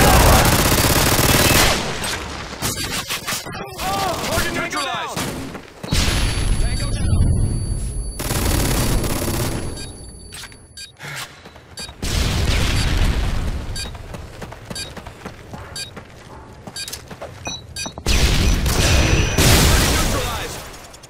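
Repeated heavy booms and blasts of a Predator missile strike with surrounding gunfire in Call of Duty: Modern Warfare 2, loud bursts recurring every few seconds with voices talking in between.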